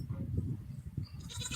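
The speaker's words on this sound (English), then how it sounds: "A new goat to the clan." A large dairy goat newly arrived on a farm bleats close by, a short wavering call followed by faint background noise.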